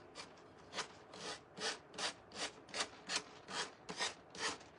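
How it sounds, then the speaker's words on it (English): Medium grit sandpaper rubbing back and forth on wood, about a dozen rhythmic rasping strokes in a steady cycle, close and moderately loud with no voices. "I've got medium grit on here, sandpaper, so it shouldn't take but just a minute to do this"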